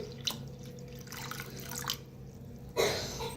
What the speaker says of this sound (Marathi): आता पाणी ओतूया.